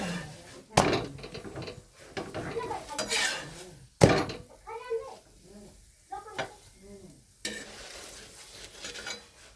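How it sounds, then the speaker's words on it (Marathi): Puran poli sizzles in oil on a hot pan while being flipped for Holi, with scraping and clatter of a utensil against the pan and a person talking intermittently over the cooking. "दुसऱ्या बाजूने पलटी मारून तेल लावून घ्यायचं आपलं. ह्याला पलटी मारून ठेवून पोळी शेकटी एकदम मस्त."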